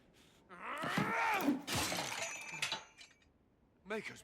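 A wooden box smashed in the fantasy game Dragon Age Inquisition: a loud breaking crash with splintering and clinking debris, followed by a short sharp thud near the end, with a voice briefly in the mix.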